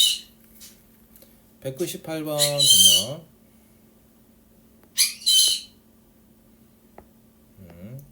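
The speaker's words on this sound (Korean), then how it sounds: "앵무새가 언니를 많이 찾네요." A pet parrot lets out a few loud, sharp squawks in a room, in short bursts near the start and again midway, between stretches of a woman's speech.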